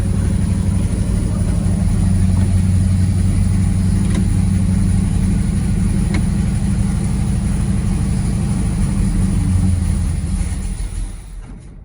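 A Buick GS project car's engine idles steadily and loudly up close for about ten seconds, a low rumbling drone that fades out as it shuts off at the end.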